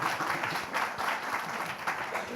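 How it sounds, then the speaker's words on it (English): Audience at a Dragons' Den-style event applauds in a dense, steady roar of clapping from a large crowd, swelling in gentle waves and heard without talk. "maybe we give a round of applause."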